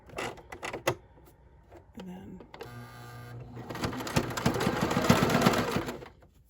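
A sewing machine zigzag-stitches shirt fabric in short bursts of rapid mechanical clatter, starting and stopping, then one longer run that gets louder.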